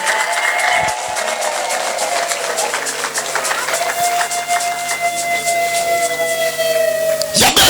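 A church congregation applauds and ululates in a steady, dense roar of clapping with high trilling voices layered over it, loud and sustained, ending in a sharp burst.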